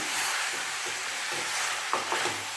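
Mutton curry ingredients stirred and sautéed in a pan, with a steady soft sizzle and a few scraping stirs near the end, close and moderately quiet with no talking.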